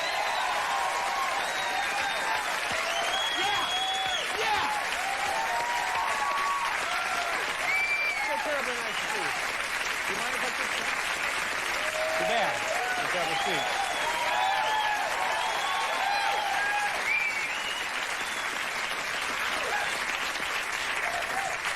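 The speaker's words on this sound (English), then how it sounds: "You show up and the crowd goes crazy." A talk show studio audience applauds a returning actress guest at a Christmas-season taping, a loud, sustained roar of clapping with cheers and whistles laced through it from start to finish.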